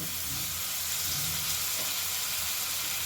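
A prawn masala (chingri) that has been cooked down sizzles steadily in the pan as water goes in. The frying hiss is constant and moderately loud, with faint stirring throughout.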